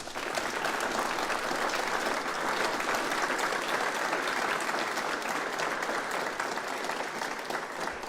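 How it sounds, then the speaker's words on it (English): Steady, dense applause from a large audience at a school awards ceremony, sustained evenly throughout as medal winners are honoured, with no speech over it. "I think we can now all give them a hearty applause for their medals."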